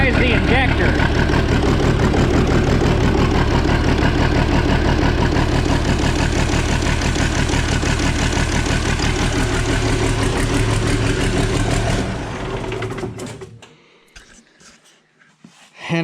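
An Oliver 1950T tractor engine runs loud and close with a rough, uneven diesel rhythm from a cylinder that is missing, then shuts down and goes quiet near the end; someone talks over it.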